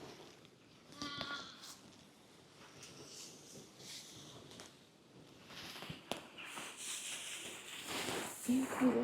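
Pet lambs bleat repeatedly on a farm, several calls rising over a busy, rustling background while people talk nearby and sheep shuffle about.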